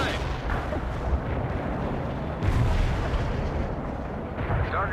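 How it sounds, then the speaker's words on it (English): Artillery fire in the war game World in Conflict: dense rumbling booms and blasts merge into a continuous roar of distant and mid-range explosions, with faint radio-style voices in the mix. "Medium artillery ready for action."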